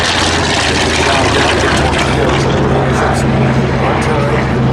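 A Grumman TBM Avenger propeller aircraft, a World War II Navy torpedo bomber, flies by at an airshow, its heavy engine roar loud and steady across the whole stretch, with a faint voice beneath.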